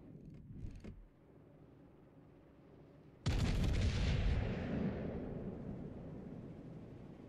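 Battleship guns fire and shells strike in World of Warships Legends, an Iowa-class broadside: a couple of faint thumps, then a sudden loud blast that rolls into a long, heavy rumbling roar.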